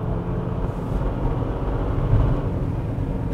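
A Maserati Levante Hybrid is heard from inside the cabin, its engine giving a steady low rumble mixed with road noise that swells slightly partway through.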